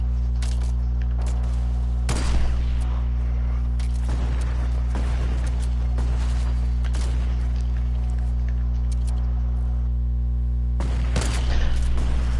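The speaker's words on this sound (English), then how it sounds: "he shot me through my wall" Gunfire in the video game Fortnite: sharp shots crack out in scattered single reports and short bursts, some close and loud, over a constant low electrical hum.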